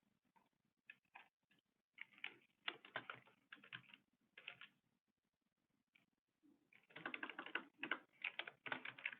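Keys clatter on a computer keyboard as a password is typed, with scattered short bursts of clicks, pauses between them, then a quicker run of keystrokes near the end, close and quiet.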